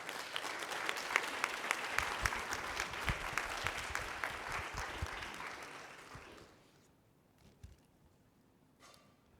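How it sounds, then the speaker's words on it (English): Audience at a university conference applauds volunteers, a dense steady round of clapping that fades out after about six seconds, leaving near silence with a few stray claps. "Please give all these individuals a round of applause."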